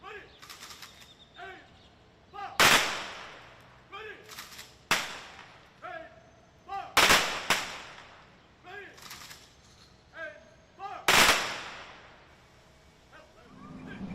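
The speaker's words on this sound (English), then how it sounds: "They all lined up for the 21-gun salute." Rifle volleys of a 21-gun salute at a police memorial ceremony, three sharp loud cracks spaced several seconds apart, each ringing out over an outdoor crowd, with talking and other background sounds in the gaps.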